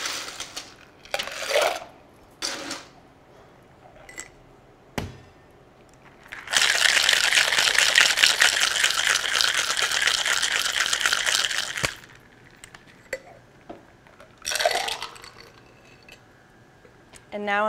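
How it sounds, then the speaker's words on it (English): An egg-white cocktail is shaken hard with ice, a loud rattling burst of several seconds between softer clinks and handling noises, with a person talking around it. "Now I'm going to add ice and shake it with ice."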